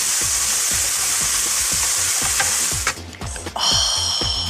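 Sugar and saffron being stirred into a pot, the spoon scraping around in regular rhythmic strokes over a constant loud sizzle, ending in a few clattering knocks.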